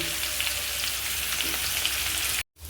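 Potato and bitter gourd pieces fry in a little oil in a wok with turmeric and salt, making a steady close sizzle that stops abruptly near the end.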